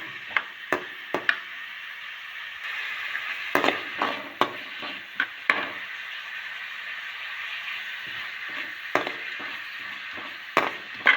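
Salted onions sauté in a pan for a prawn gravy, giving a steady close sizzle broken by sharp clinks and scrapes as a spoon stirs them now and then. No one speaks.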